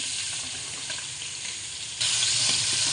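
Meat sizzles and fries steadily in hot, smoking oil in a home Bengali kitchen, a dense continuous crackle that grows louder and brighter partway through, as if stirred or newly added, with no talking.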